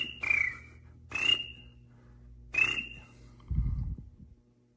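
A person imitates a cricket with their voice: three short, shrill whistled chirps spaced about a second apart, followed by a brief low thump near the end, fairly quiet.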